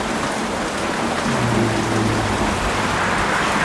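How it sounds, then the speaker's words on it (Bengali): Heavy rain pours steadily during a stormy, windy day, a loud unbroken hiss of drops on surfaces that fills everything, with a faint low rumble underneath and no voices. "তো আজ আর এই বৃষ্টি থামবি না"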